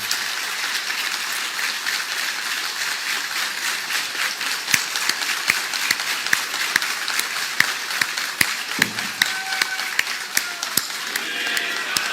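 A crowd at a Nationalist Congress Party meeting claps steadily, a dense patter of hands that continues throughout at an even level, with a few sharper individual claps standing out.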